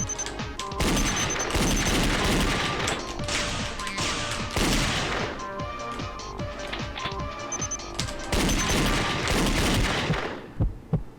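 Dense, continuous rapid shooting in the Danganronpa Another trial minigame, a steady stream of loud clicking shots over busy game music that runs almost unbroken and ends in a few last pops.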